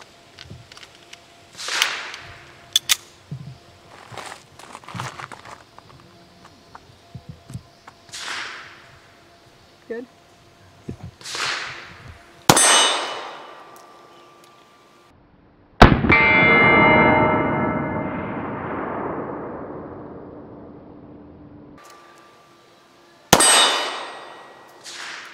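Makarov pistol fitted with a replaced recoil spring fires sharp, loud single gunshots spaced irregularly apart, each with a ringing echo trailing off, and one long reverberant decay midway; faint talk sits between shots.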